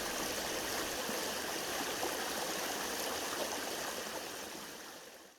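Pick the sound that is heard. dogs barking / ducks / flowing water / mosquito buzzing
flowing water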